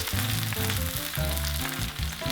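Onion, eggplant, celery and carrot frying in oil in a hot pan over medium heat, a dense continuous sizzle with a bright hiss throughout, close and steady.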